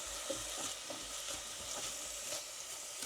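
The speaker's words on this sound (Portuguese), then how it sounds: "vamos deixar aqui a cebola dourar" Onion browning in a pan gives a steady, soft broadband sizzle with occasional scraping stirs, quiet and close, with no voices.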